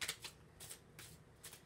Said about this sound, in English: So I corner shuffle